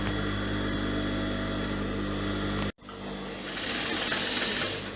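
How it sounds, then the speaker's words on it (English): A sewing machine stitches the sides of organza ruffled sleeves, whirring steadily up close, cutting off abruptly partway through and then resuming with a brighter, faster run. "So I'm just going to stitch it now, and then I'll show you the complete. I'll stitch the side"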